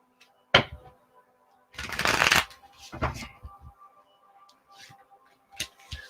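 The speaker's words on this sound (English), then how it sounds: "One more shuffle." Tarot cards being shuffled in a few short riffling bursts, close and fairly soft, separated by quiet pauses and light taps.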